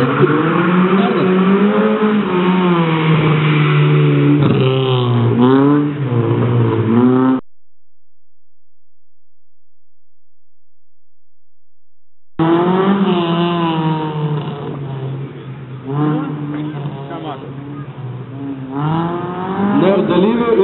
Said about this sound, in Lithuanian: Ir prie starto linijos Mitsubishi Colt automobilis, kurį pilotuoja Vincas Zaleckis.